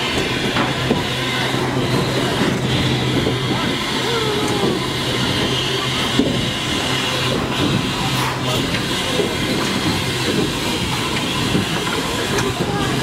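Steam locomotives working at Podmoskovnaya station in Moscow, one running while another turns, give a steady hissing, rumbling wash with faint clanks throughout, voices murmuring underneath.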